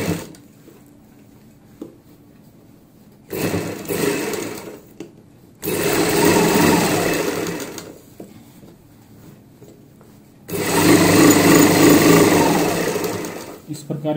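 Domestic sewing machine stitching box pleats on palazzo pants, running in three bursts of steady, close, loud whirring separated by pauses, with faint handling sounds in the quiet gaps.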